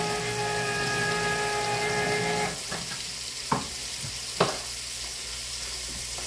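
Pork stew meat browns in a pot with a steady sizzle, stronger for the first few seconds and then quieter, broken by a few sharp clinks of stirring, with no one talking.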